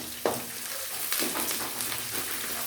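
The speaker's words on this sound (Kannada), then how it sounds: "ಇವನ್ನ ಒಂದು ಸ್ವಲ್ಪ ಎಣ್ಣೆಯಲ್ಲಿ ಹುರ್ಕೋಬೇಕು" Onion, garlic, chilies and curry leaves frying in oil with rock salt for puliyogare: a steady close sizzle and crackle, broken by a few sharp spatula scrapes and stirs, with no talk.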